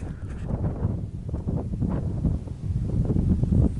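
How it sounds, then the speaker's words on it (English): Gusty wind buffets the microphone high on a mountain ridge along the Appalachian Trail in Maine, a steady low rumble with uneven surges and no voices throughout. "it's pretty windy"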